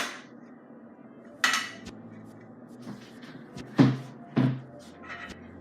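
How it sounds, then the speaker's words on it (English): A knife cutting a cookie in half against a metal baking pan: several sharp, close knocks and scrapes spaced irregularly over a quiet room background, with no talking. "I'm gonna go ahead and cut the cookie in half"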